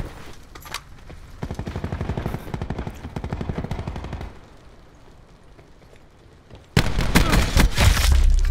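Rapid automatic gunfire from Call of Duty: Black Ops multiplayer, sustained bursts of clattering shots, then a quieter stretch before a loud, dense barrage of gunfire and explosions closes it out.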